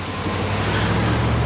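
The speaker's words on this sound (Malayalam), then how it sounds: "അയ്യോ കർത്താവേ മഴ" Heavy rain pouring down in a Malayalam film scene, a dense, steady hiss with a low rumble beneath, loud and continuous for a brief moment.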